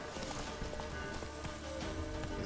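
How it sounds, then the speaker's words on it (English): Horse hooves clip-clop at a steady galloping pace in The Witcher 3, fairly close and continuous over a low game ambience, with no talking. "It says we can mount a horse."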